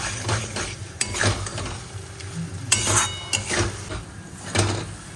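Spinach paste sizzles in a pan while a metal spoon stirs and scrapes it, producing a run of irregular clinks and scrapes against a low frying hiss, close and moderately loud.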